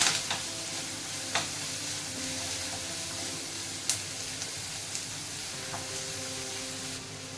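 Onions with curry leaves and salt frying in a pan, a steady soft sizzle with occasional stirring clicks and scrapes, close and fairly quiet, with no talking.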